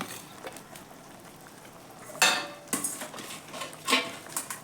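Fried onions go into a pot of dal for halim and get stirred in. Soft bubbling is broken by several sharp metallic clanks and scrapes of a spoon against the pot, and no one speaks.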